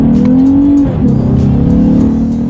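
A 2018 Lexus GS 350 F Sport in sport mode accelerating hard with paddle shifting, its engine note loud and close, climbing steadily, then dipping briefly at a quick upshift before pulling again.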